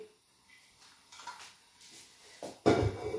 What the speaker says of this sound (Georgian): ეს ჩემს ხელთ არსებული ყველაზე დიდი ქვაბია 5 ლიტრიანი.